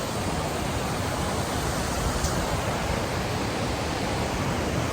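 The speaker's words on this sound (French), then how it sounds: "Donc là, on a une petite cascade de bien 20 mètres, je pense." Waterfall about 20 metres high in the Cirque de Cilaos on Réunion, a steady, dense roar of falling water that stays loud and unbroken throughout, with no voices.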